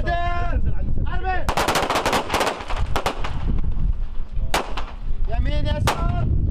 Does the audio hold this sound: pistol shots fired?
yes